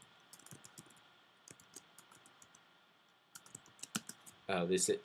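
Clicky keystrokes on a computer keyboard come in quick irregular bursts, close and fairly quiet, while someone types code for a C++ tutorial, ending in a louder dense flurry.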